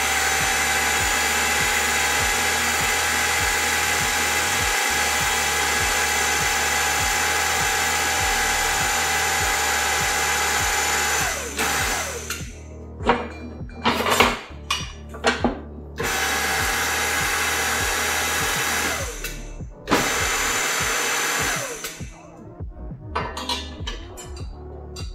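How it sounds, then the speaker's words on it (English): A tube bender works solid 1/4-inch 1144 stressproof steel bar, first with a steady mechanical whir and rhythmic pulsing, then with choppy starts and stops as the machine cycles through its bends nearby. "we're going to make a second set of bends on these."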